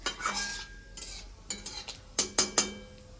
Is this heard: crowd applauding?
no